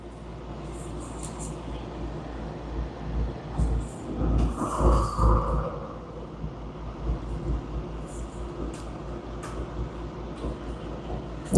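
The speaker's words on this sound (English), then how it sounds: "Oh, I hear a big old truck outside." A big truck passes outside, a low rumble that swells in the middle and fades again, heard faintly from indoors over a quiet room.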